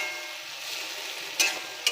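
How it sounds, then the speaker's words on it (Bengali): Mustard paste being stirred into a fish curry with green chillies in a frying pan, a soft steady sizzle with two brief scraping strokes of the spoon near the end. "এটাকে আমি এখন ভালো করে নাড়বো।"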